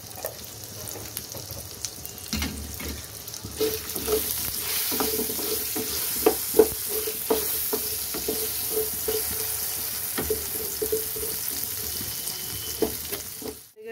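Potatoes frying in oil seasoned with salt and turmeric, a continuous soft sizzle with bursts of crackling and spatula scrapes and stirring knocks, fairly close and moderately quiet, no talking.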